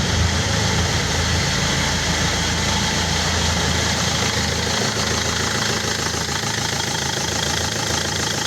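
Land Rover Freelander engine idling steadily up close, a lumpy, uneven low rumble with a faint knocking vibration, continuous and fairly loud throughout.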